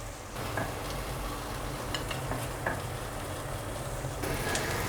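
Baby corn pan-frying in a vegan home kitchen, a soft steady sizzle with a few faint ticks and clicks, quiet and close, no voices.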